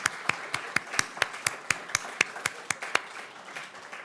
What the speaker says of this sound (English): we'll give them a little applause.